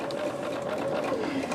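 Sewing machine stitching quilt pieces late at night, a steady continuous motor whir with a humming pitch that holds level and drifts slightly, close and unbroken throughout.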